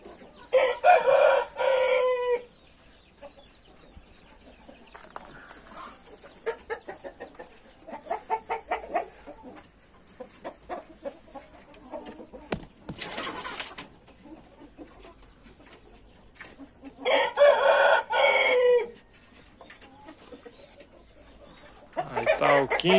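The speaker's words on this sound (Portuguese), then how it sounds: "Essa galinha aqui é uma ótima reprodutora" Chickens and roosters in a backyard poultry flock, with loud rooster crows coming in separate bursts and softer clucking and cackling between them, close by and mostly on their own.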